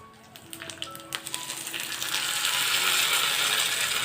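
A mixer grinder starts up on coconut chutney, with a few ratcheting clicks and taps from the jar before the motor rises into a steady, close whirring grind.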